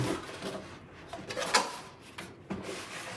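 Nike shoe shipping packaging is torn open by hand, a few close, soft rustling rips and scrapes of paper or cardboard in bursts, fairly quiet, with no talking.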